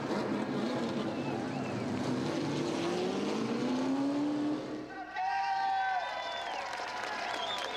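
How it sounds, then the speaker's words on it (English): Late model race cars roar past the start-finish line in a continuous loud engine drone, pitch sliding down as they pass, with a fresh higher engine whine following and crowd noise underneath. "Car is shooting by the start-finish line."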